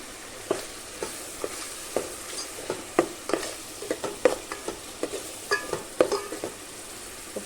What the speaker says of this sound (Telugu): బాగా కలిపేసి కొంచెం పసుపు కూడా యాడ్ చేస్తాను